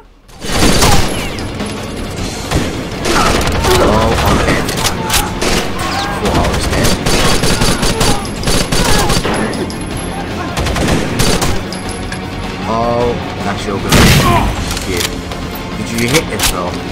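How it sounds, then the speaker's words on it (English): Loud, dense gunfire with bursts and booming explosions from the video game Rainbow Six Vegas 2, sustained throughout, with players talking over the action. "That was a massive explosion to be fair."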